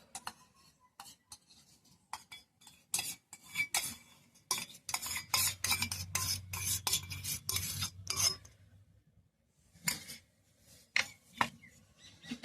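Scraping and stirring of an amla pickle mixture with chili powder, salt and tamarind juice, spoon knocking and rubbing against a bowl in irregular close bursts, with a denser run of scraping midway and no talk.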